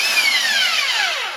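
A large, powerful disc sander for wood runs steadily, a dense high whine with falling tonal sweeps as the motor slows under load, loud and close with no voices.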